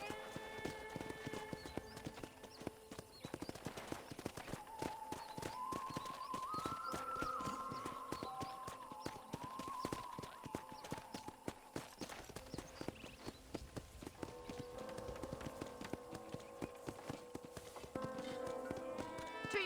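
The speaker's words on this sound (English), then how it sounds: "let's see if you can still ride a horse" Horse hoofbeats clip-clop steadily through a ranch in Red Dead Redemption, a continuous near rhythm across the whole stretch, with a brief whinny and background game music and ambience.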